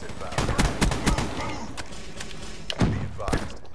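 Rapid bursts of PPSh submachine gun fire from a zombies video game, several sharp volleys close together, then a pause and two more bursts, loud and close.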